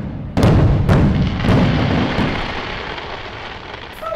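Fireworks going off outdoors near a restaurant car park: several booming bursts in quick succession, then a rolling, crackling rumble that slowly fades, loud and fairly near.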